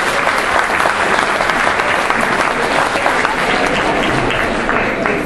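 Sustained applause from an audience at a regional association's speeches-and-bingo gathering in an arts hall in Le Pradet, steady dense clapping filling the room at a constant loud level throughout.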